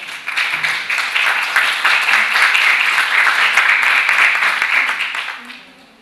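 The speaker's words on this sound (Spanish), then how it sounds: "Un aplauso, por favor." Conference audience applauding at a congress on Ehlers-Danlos syndromes, a loud, dense, steady wash of clapping for about five seconds that fades out at the end.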